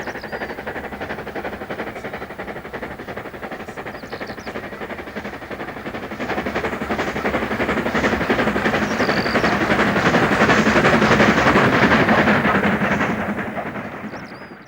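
A Stanier Black Five steam locomotive passes Greyrig and climbs toward higher ground, giving a steady heavy rumble that grows louder midway, peaks, then eases slightly, with no voices.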